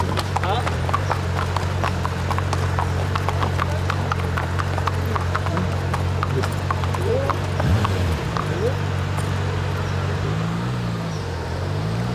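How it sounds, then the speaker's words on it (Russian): Racehorses' hooves clip-clop on a road in Chantilly, a steady run of crisp hoofbeats from a group of horses passing near, with a low engine hum beneath and a person talking over it. "До этого момента шоссе на несколько минут принадлежит лошадям."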